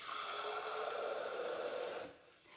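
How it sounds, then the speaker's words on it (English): Tap water rushes steadily into a vase, a loud, even splashing stream lasting about two seconds before it cuts off abruptly. "fill it with water"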